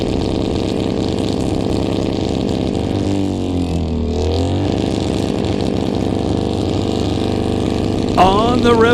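A race car engine bouncing off its rev limiter at a smoke-and-thunder event, a loud, sustained buzzing roar with a pitch sweep midway, heard close amid crowd and announcer noise.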